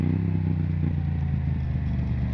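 Motorcycle engine running loud and close while the throttle is blipped on a downshift, a steady deep rumble with quick pulsing beats throughout.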